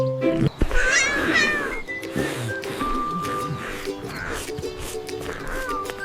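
A cartoon cat meows: a high, bright voice imitates the cry in a children's animation, over bouncy background music with other character sounds.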